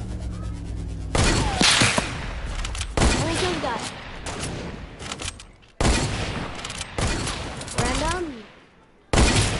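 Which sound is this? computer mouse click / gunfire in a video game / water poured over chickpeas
gunfire in a video game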